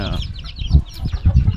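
Backyard chickens in a coop with a sunny run and a night roost cluck and chatter close by, with a few louder squawks and a brief rustle of wings, no talking.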